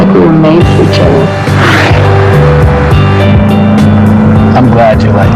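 A Porsche Cayenne engine hums with a smooth, loud, steady tone through a television advert, while a voice speaks over it.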